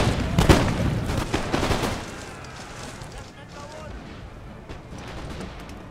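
A musket volley from an Empire: Total War battle siege opens with a loud cracking burst of many overlapping shots, then decays into a rumbling crackle of scattered fire and battle noise.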